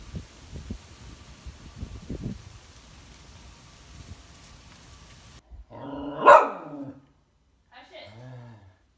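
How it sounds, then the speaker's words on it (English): A dog barks nearby, a few sharp barks after a stretch of rustling and low rumbling background noise. "He's literally barking at the hole."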